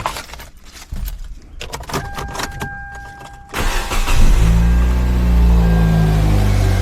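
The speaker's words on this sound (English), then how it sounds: "So we're gonna start the engine." Keys jangle and click close by in a Kia Soul, then the engine catches and settles into a steady, loud idle rumble.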